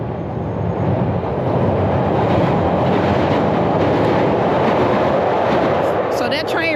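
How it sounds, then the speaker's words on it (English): Chicago elevated Pink Line train passing close by, a loud steady rumble of wheels and cars on the rails that holds throughout, with no talk. "So that train right there is actually the pink line."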